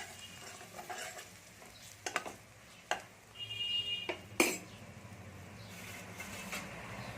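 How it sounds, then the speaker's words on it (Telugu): Pepper powder and turmeric get stirred into rice in a pan, quiet utensil scrapes and a few sharper metallic clinks against the pan over soft background noise. "ఇప్పుడు మిరియాల పొడి, కొద్దిగా పసుపు వేసి ఒకసారి బాగా కలపాలి."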